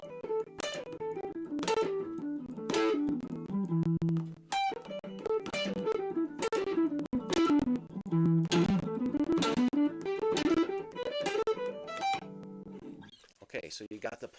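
Electric lead guitar playing a blues lick, with hard, string-snapping accents alternating with barely touched ghost notes in a quick, uneven rhythm of bright plucked tones, close and clear, with a brief noisy scrape at the end.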